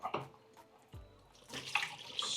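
Tap water running in a kitchen sink while a yellow yam is washed, soft splashing with brief bursts and a stronger gush toward the end, faint and close with no talk.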